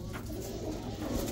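Pigeons coo softly among the stalls of a Baghdad bird market in Zafaraniya, a low continuous murmur of cooing under distant market bustle, without clear speech.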